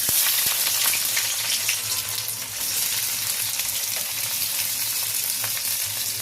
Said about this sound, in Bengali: এবার এর মধ্যে আমি পেঁয়াজটা আগে তেলে দিয়ে দিচ্ছি।